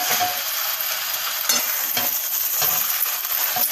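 Chicken pieces frying in hot oil for a gravy, with a loud continuous sizzle and scraping spoon strokes as the meat is stirred in the pan, close up and with no talking.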